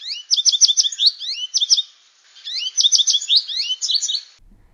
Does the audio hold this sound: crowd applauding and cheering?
no